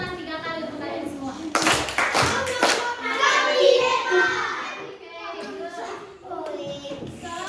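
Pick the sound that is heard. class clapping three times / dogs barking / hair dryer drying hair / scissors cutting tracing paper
class clapping three times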